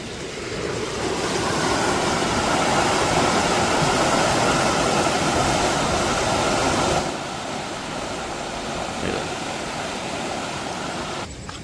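Rising floodwater rushes at Patoli bridge in Furus village near Dapoli-Khed during heavy rain, a loud continuous roar that eases somewhat after a while and carries on steadily.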